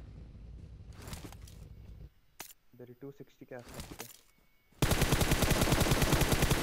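Rapid automatic gunfire from a mobile battle royale shooter, a dense, loud burst of shots filling the last two seconds after quieter game sounds and a few clicks.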